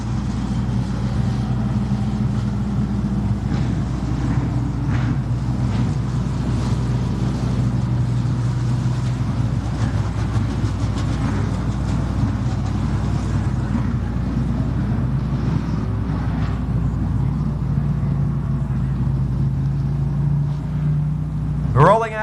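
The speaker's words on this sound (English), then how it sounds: "Rolling out onto the speedway now for their hot lap session will be your super late models." Super late model race cars roll onto the dirt track at Thunderbird Speedway for hot laps. A continuous, loud engine roar holds steady throughout with no break.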